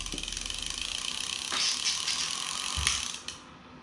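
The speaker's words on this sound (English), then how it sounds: "I'm going to show you the free spool on this, if I can get it going." A Penn Senator 40 trolling reel spins freely in free spool, giving a steady, close mechanical whir with a fine ratcheting click texture that runs for several seconds before stopping abruptly.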